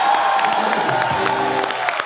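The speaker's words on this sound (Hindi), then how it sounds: "एक बार अक्षय पाजी और रितेश के लिए जोरदार तालियां।" Loud, sustained applause from a studio audience at an Indian television comedy show, dense clapping mixed with crowd cheering and whoops, with a voice briefly audible underneath.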